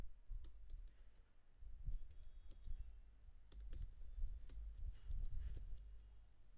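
Keys clatter on a computer keyboard in quick, uneven bursts, soft and close, with short pauses between runs of clicks and a low hum underneath.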